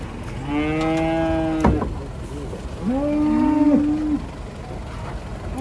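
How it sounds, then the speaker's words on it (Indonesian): Big jumbo cattle, including a bull, coming down off a truck, with two long, loud moos close by, the second one lower and drawn out, over a steady hum of background noise. "Ini banyak sapi yang dijual ini."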